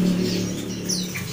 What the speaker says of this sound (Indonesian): Ini burung kutilang jinak.